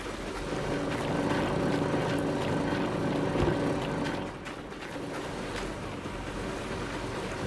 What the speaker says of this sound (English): Let's turn the wavetable on.